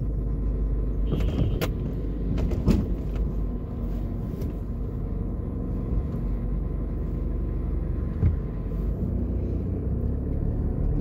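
A car drives through the business district of New Kingston, Jamaica, with a steady low engine and road rumble from inside the cabin and a few faint clicks and bumps along the way.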